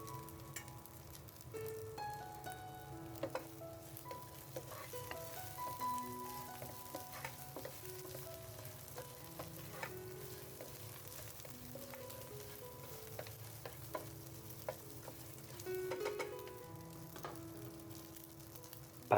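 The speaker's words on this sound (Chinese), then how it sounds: "因为鸡肉已经炸好了，这里我们只要简单的翻炒上味就 OK 了" Already-fried chicken for Sichuan chilli chicken is stir-fried in a wok, a steady soft sizzle with repeated clinks and scrapes of the spatula against the metal, no voices.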